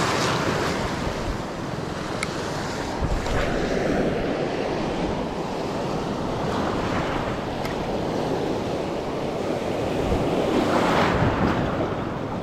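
Big ocean waves surge and break continuously along a shore where someone is fishing, a loud, heavy roar buffeted by strong wind noise on the microphone, with swells building and crashing throughout.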